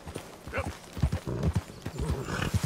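Rapid clip-clop of horse hooves trotting in the video game Red Dead Redemption 2, a steady rhythmic patter of hoofbeats, fairly close, with a faint whinny-like sound mixed in.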